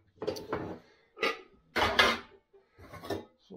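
A metal cooking pot is handled in a kitchen while water is readied for boiling pasta. Several separate clunks and scrapes land a beat apart, close and moderately loud, with no talk.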